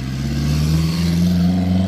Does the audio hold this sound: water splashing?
no